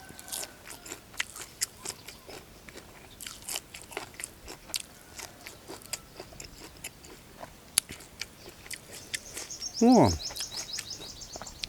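Close, crisp biting and crunching as blanched krachiao flowers are eaten, repeated bites and chewing in an irregular rhythm, with faint birds chirping in the outdoor background and a brief louder rising whoosh near the end.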